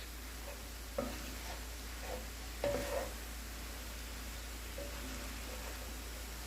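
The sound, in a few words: onions and jalapenos cooking in a pan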